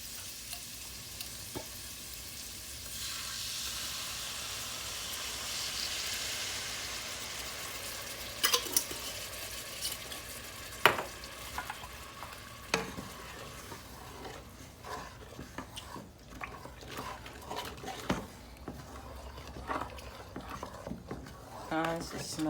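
Haitian rice with lima beans and coconut milk sizzles softly in a pot, with a steady faint frying hiss broken by occasional clinks and scrapes of a stirring spoon, while a person talks over it.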